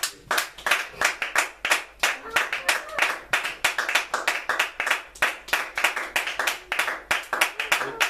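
Church congregation in a French-language service clapping in acclaim of God, a sustained, fairly close stretch of many hands beating in a quick, uneven rhythm with no pauses.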